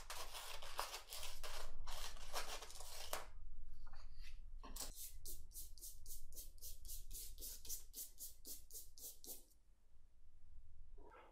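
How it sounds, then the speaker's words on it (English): Scissors cutting long hair: a rapid series of crisp snipping bursts in two clusters, close and distinct, with quiet gaps between. "With the scissors, cut my long hair"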